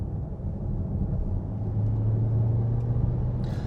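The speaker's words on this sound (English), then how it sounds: "in sport mode, the petrol engine is on all the time" A hybrid car's petrol engine runs in sport mode, a steady low rumble from inside the cabin that grows slightly louder, with a faint droning tone emerging partway through.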